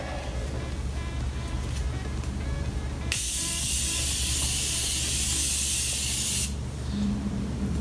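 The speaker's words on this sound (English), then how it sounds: "I'm going to be using my Morphe setting spray to set my makeup." Morphe makeup setting spray misted onto a face in one long continuous hiss lasting about three seconds, close and fairly loud, over a quiet room background with no talking.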